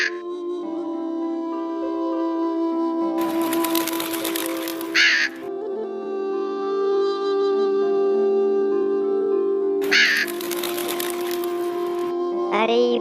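Crows caw loudly and repeatedly in a forest setting, harsh calls standing out over a sustained tonal background with bursts of noise between them.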